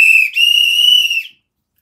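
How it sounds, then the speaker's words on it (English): A single loud, piercing whistle held for just over a second, briefly broken near the start, then cut off into silence, with no talk around it. "Can I get a whistle?"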